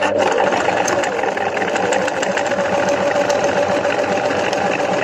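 Sewing machine stitching a side slit in fabric, running in one steady, continuous whir with a fast rhythmic needle clatter throughout, close and fairly loud, with no voices.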